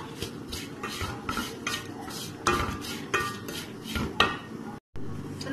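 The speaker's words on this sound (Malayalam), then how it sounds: "നമുക്ക് നന്നായിട്ട് ഇളകി കൊടുക്കണം." Spoon stirring grated coconut and Kashmiri chilli in a pan, brisk repeated scraping and clinking strokes with a faint sizzle underneath, close and steady.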